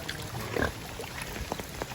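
A pig gives a short grunting oink, followed by a few fainter snorts, close by.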